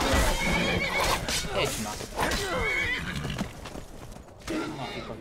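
A horse neighing loudly in the fantasy role-playing game Skyrim, with a drawn-out whinny and snorts up close while someone talks over it.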